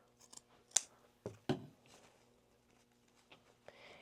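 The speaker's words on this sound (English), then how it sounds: "I don't like this length of this gold one. I'm going to just cut it a little bit shorter." Scissors snip a gold wreath decoration shorter, two or three faint crisp cuts with light rustling of the material in a quiet room.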